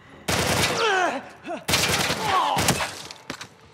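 Assault rifle fire in the video game The Last of Us Part I, two loud bursts of rapid automatic shots separated by a short gap, with a groaning voice and a yelp mixed in.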